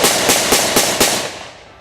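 A WWII-era gun fired semi-automatically outdoors: five loud, close reports in quick, even succession, each with a brief echoing decay that fades into open-air reverberation.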